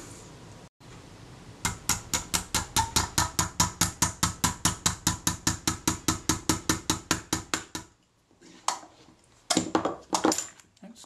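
Steady, rapid hammer blows, about three per second, ring out close and loud for several seconds, then stop, followed by a few scattered knocks and scrapes.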